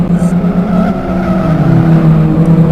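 Race car drifting through a corner during a championship race, loud engine drone with squealing, skidding tires sweeping across the whole moment.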